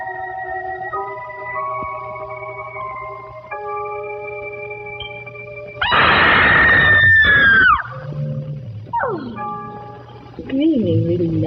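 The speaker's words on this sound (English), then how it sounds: "she suddenly screams a blood-curdling scream" A woman lets out a single loud, piercing, blood-curdling scream in the middle of old Vampira footage. Sustained tones and softer vocal sounds come before it, and shorter wavering cries follow.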